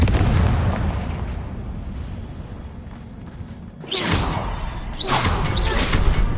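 Confringo blasting spell in Hogwarts Legacy, with a low rumble followed by two loud, bright bursting blasts with whooshes, close and alone.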